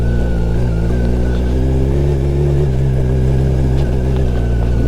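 A motorcycle engine drones steadily and loudly as the bike picks its way over a rocky, potholed mountain road on the Sach Pass route from Banikhet, with slight changes in engine pitch along the way.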